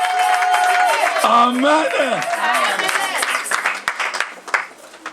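Church congregation applauding at a convention in Charleroi, a brief round of clapping from the crowd heard under someone speaking loudly with a singing, sustained voice.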